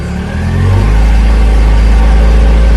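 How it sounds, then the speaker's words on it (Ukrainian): A car engine revs up as the driver lets out the clutch in first gear, a loud steady drone that swells in the first second and then holds level, close by and with no talking. "Отпускаю сцеплення, вижимаю газ і триваю."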